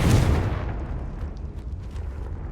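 A Confringo fire spell blasts in the Hogwarts Legacy video game, a loud booming explosion that starts hard and trails into a long rumbling decay that fills the whole moment.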